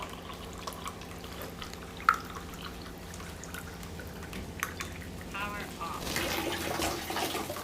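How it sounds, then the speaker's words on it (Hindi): Water runs from the outlet of a Kangen water machine with a soft drip and pour that builds into a steadier splashing stream near the end, while a person talks over it. "ये देखिए मशीन से पानी निकल रहा है।"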